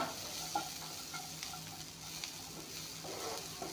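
Peas frying in a pan, a quiet steady sizzle with soft stirring taps and scrapes recurring throughout.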